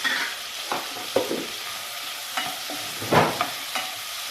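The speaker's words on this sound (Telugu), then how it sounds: "కొన్ని ఉల్లిపాయలు 2 పెద్దగడ్డలు అనుకోండి. ఇది బాగా ఫ్రై చేయాలి." Onions frying in a pan, with a constant sizzle and repeated sharp clinks and scrapes of a spoon stirring them, close and loud with no talk.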